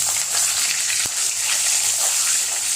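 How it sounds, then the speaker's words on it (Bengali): Marinated paneer pieces fry in hot oil with a loud, dense, continuous sizzling hiss and one sharp utensil tap partway through. "এবার তেলে পনিরগুলো ভেজে নেব"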